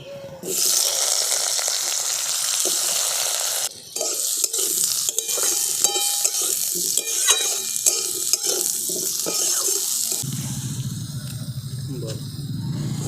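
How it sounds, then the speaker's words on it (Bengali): Boiled potatoes frying in hot mustard oil in a kadai, a loud steady sizzle broken by scraping stirs and clatters, with a short pause partway and a lower bubbling tone toward the end. "দেখুন আলুগুলো লাল লাল করে ভেজে নিয়েছি"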